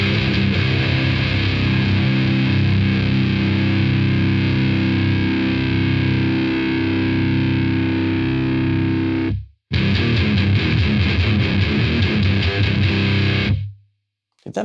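An electric guitar plays heavy, saturated chords through a Daphon Heavy Metal E20MT distortion pedal with the low end dialed out, loud and sustained, stopping abruptly twice with brief silences.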